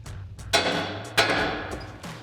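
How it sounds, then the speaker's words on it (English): Three sharp metal hammer blows on the side of a steering knuckle on a 2005-2023 Toyota Tacoma to free the ball joint. Each ringing strike is followed by a decaying clang, spaced roughly half a second apart, close and loud. "You'll want to strike right on the side of the knuckle in order to release this ball joint."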